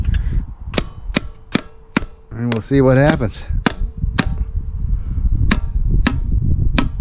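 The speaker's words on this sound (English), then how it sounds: "we're gonna do some light tapping on these areas where I can hit the hammer on" About a dozen sharp, evenly spaced hammer taps on a hard metal Craftsman mower engine cover, close and loud, with someone speaking briefly partway through.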